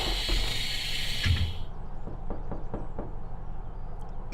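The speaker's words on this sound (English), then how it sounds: "I thought somebody was knocking on my wall." Sharp knocks sound against a wall inside a Train Sim World 5 game, a short irregular series of dull thuds under a fading hiss, with no talking.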